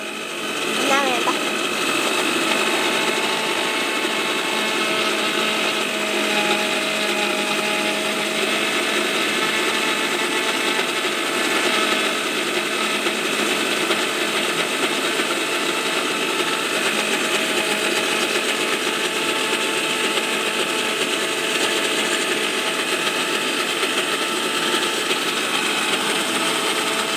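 An electric blender grinds bananas into banana ice cream, making a steady, loud motor whir with a mechanical buzzing tone that runs unbroken the whole time.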